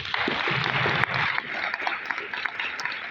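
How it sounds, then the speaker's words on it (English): An audience at a Q&A session claps for themselves, a loud, steady burst of applause running throughout with faint voices mixed in. "kindly clap for yourself"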